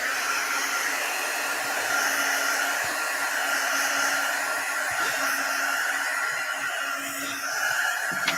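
A hair dryer blows steadily to dry a collage page, a loud, constant airy rush that holds without a break all the way through.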